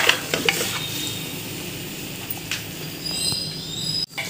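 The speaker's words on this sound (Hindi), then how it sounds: "ऑयल नहीं है तो आपको ये लगातार चलाते रहना है ताकि ये नीचे चिपके नहीं" Mutton being stirred and dry-fried without oil in a pan for a dhaba-style dish, giving a steady scraping and soft sizzle with occasional utensil clinks against the metal, close and moderately loud throughout.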